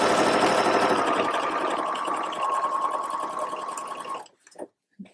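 A sewing machine runs a second reinforcing line of stitching along the crotch seam of a pair of jeans, a steady close motor whir for about four seconds before stopping, followed by a few brief handling clicks.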